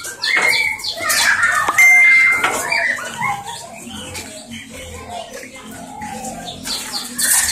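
Loud, bubbly, warbling straw-headed bulbul song bursts out in repeated phrases, close by in a breeding aviary, with other chirps and a faint murmur of activity around it.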